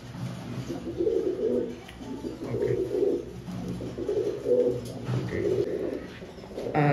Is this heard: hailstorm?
no